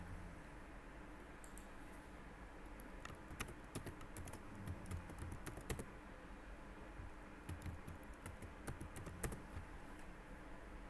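Soft computer keyboard typing of a username and password, irregular bursts of faint key clicks with pauses between them over a low room hum, no speech.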